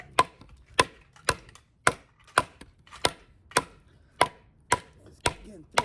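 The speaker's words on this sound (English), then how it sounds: "Again, for this smaller knife, this thing's chopping pretty damn good." A small budget AliExpress SKD-11 steel knife chops into oak headboard wood, giving ten sharp, evenly spaced thwacks about half a second apart, close and distinct with no talking.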